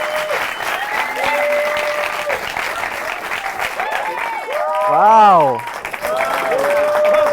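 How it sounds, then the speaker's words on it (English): An audience at an acting studio claps steadily for a guest, a sustained wash of applause with people talking over it and a brief exclamation rising near the end. "They clap for you more than they clap for me."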